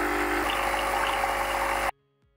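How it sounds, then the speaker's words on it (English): A Nespresso CitiZ coffee machine pumps rinse water through with a steady, loud mechanical hum and vibrating drone for almost two seconds, then cuts off abruptly to near silence. "press the Lungo button just to rinse water through the machine to give it a good clean"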